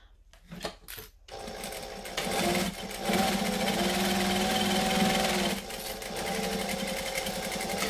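A sewing machine runs steadily, stitching fabric in a continuous whirring hum for several seconds after a few short starts and clicks, close by and alone.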